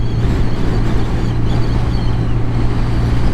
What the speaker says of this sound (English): There's a lovely kind of bumbling noise coming from the engine.